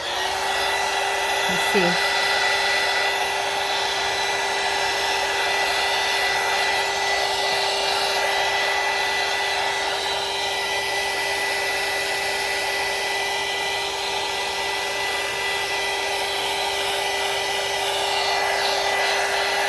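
A hair dryer drying paper blows steadily and loudly for the whole stretch, a constant whirring roar with a brief spoken remark near the start.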